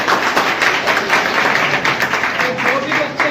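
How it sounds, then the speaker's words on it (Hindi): Students and guests at an awards ceremony for students with top 12th-grade exam results clap loudly together. The applause is dense and continuous, with voices underneath it. "एक बार सबसे पहले इनके लिए जोरदार तालियां"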